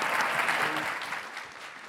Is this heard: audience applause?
yes